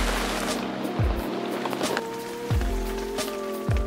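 Tropical jungle rain on the trek to the Lost City in Colombia, a close, steady patter on a surface with heavier drips and knocks recurring every second or so, and no talking.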